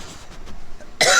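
A woman coughs once, a sharp close burst at the very end after a quiet stretch of faint room noise in a home with the air conditioning running.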